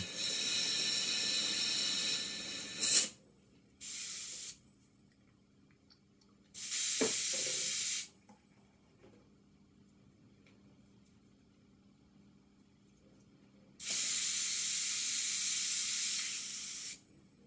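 An airbrush spraying pastel paint in bursts: a long hiss, a short one, another mid-length burst, then a final long spray after a quiet gap, close and fairly loud, with faint small handling sounds between.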